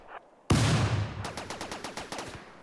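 Turret gunfire in the video game RimWorld: a sudden loud blast followed by a rapid, evenly spaced volley of close, sharp shots that fade slightly toward the end.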